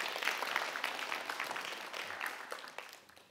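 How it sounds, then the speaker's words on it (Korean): Parents at a school admissions briefing applaud a department head, a modest spread of clapping from a seated crowd that holds steady, then thins and fades toward the end. "우리 김특성 부장님한테 박수 한번 부탁드리겠습니다"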